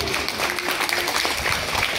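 Audience applause at a restaurant soft-launch gathering in Bandung, a dense, steady wash of many hands clapping throughout, with a voice faintly audible underneath.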